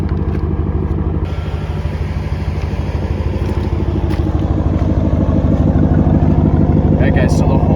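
An RFX 150 PSI portable air compressor runs steadily while inflating a car tire, giving a loud, constant motor drone with a fast rhythmic pulse that keeps going throughout.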